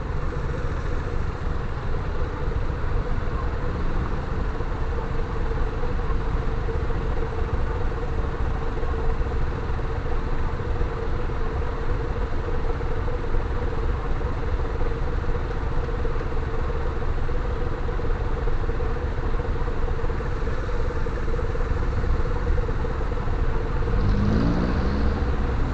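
Heavy traffic on Harrison Road in Baguio at a green light, a continuous rumble of idling and creeping car and motorcycle engines close by, steady throughout with no talking.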